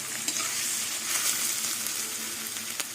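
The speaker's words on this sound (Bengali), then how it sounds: "পেঁয়াজটা ভাজা ভাজা হয়ে গেছে" Onion frying in a pan for a small-fish curry, a continuous close sizzle with light stirring scrapes and occasional soft clicks.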